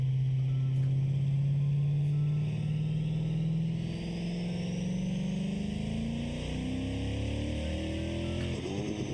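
A car engine in a video game revs on a dyno, a loud, steady drone whose pitch climbs slowly and smoothly through the run before easing off at the end.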